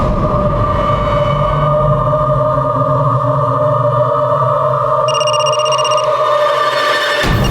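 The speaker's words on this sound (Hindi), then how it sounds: "फोन लगा।" Indoors, a telephone rings continuously for several seconds with a steady electronic tone, loud and near. A brief higher ringtone layer joins near the end before it cuts off abruptly.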